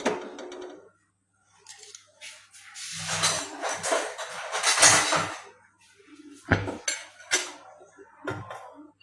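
A kadai pan is set on a kitchen stove amid clattering pots and metal utensils, with irregular clanks and scrapes arriving in uneven bursts separated by short pauses, close and fairly loud.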